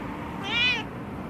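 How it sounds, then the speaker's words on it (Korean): A single stray cat meow, fairly close and clear, rising and falling over about half a second against a soft background hum. "너 착한 길고양이였어"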